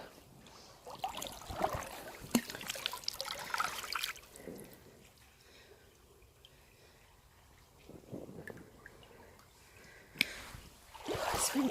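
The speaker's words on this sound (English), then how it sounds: "You can just hear the water" Water trickles faintly through a quiet reed-lined brook, a soft continuous burble with occasional louder splashes and rustles nearby.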